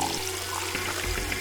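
Water running into an empty jar in Zero Escape, a short, steady wash of flowing liquid lasting about a second and a half.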